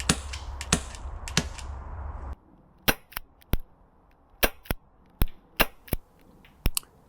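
Tokyo Marui LCP 2 gas pistol firing 0.25 gram BBs: sharp, close pops arrive in irregular bursts, several in quick succession with short gaps. A steady low hum runs under the first few shots and then drops away.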